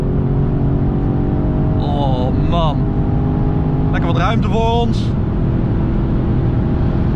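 BMW M850i Gran Coupé with its V8 at full throttle on the autobahn, a loud continuous engine drone heard from inside the cabin, with someone talking briefly over it midway.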